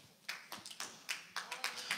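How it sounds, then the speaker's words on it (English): Scattered hand claps ring out at a church service, about ten sharp, separate claps in an uneven rhythm, faint and close with no steady crowd roar. "Oh, clap your hands, all you that are not ashamed people."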